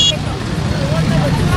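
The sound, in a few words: busy street traffic with horns, motorbikes and car engines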